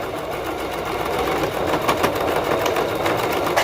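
Sewing machine running steadily as it stitches around the bodice piece of a child's romper, a continuous close, fairly loud mechanical whir with no talking over it.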